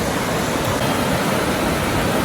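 The green-tinged Mandakini river rushing over stones at Rudraprayag in the Himalayas, a loud, unbroken roar of flowing water filling the whole stretch, with no voices present.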